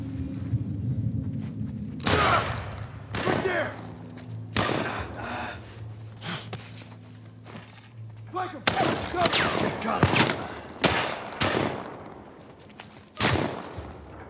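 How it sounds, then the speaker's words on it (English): Gunfire in the video game The Last of Us Part I fires as loud irregular shots and short bursts, some close and booming, over a low drone, with speech in between. "Nice shooting, Tex."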